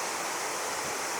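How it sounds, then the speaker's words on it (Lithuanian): Swift water rushing past the rebuilt Bijotai watermill, a steady, dense broadband rush filling the whole moment with no breaks, close and constant. "Tačiau čia šalia labai srauniai bėga vanduo."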